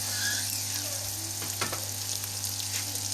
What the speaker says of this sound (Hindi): अब हम इसमें प्याज डालेंगे और प्याज़ों को हमने ब्राउन नहीं करना, बस हल्का सा हमने प्याज़ों को सॉफ्ट करना है।